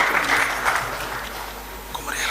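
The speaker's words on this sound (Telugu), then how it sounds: "అందరూ ఒకసారి కరతాళ ధ్వనులతో చప్పట్లతో ఆహ్వానిద్దామా?" An audience claps to welcome chief guests at a valedictory function for the Lokmata Devi Ahilyabai Holkar tercentenary birth celebration, a dense, steady round of applause from a crowd that thins slightly toward the end.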